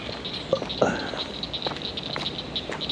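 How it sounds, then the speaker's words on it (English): Rain patters steadily around an outdoor shelter near gator ponds, a soft continuous spatter with faint frog and insect calls mixed in. "Oh yeah, that's definitely rain."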